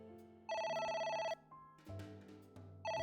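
Video game phone ringing in repeated bursts, a bright electronic telephone bell pulsing on and off over quiet background game music, with no talking.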